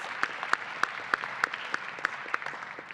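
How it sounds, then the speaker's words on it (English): An audience applauds at the close of a convention panel on tabletop worldbuilding, with a steady patter of clapping and sharp individual claps standing out near the microphone. "Big round of applause for everybody."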